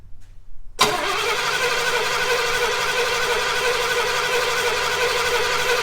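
After a brief quiet, an old car engine in an abandoned garage starts cranking abruptly and keeps grinding steadily and loudly for several seconds without catching, its injectors not firing.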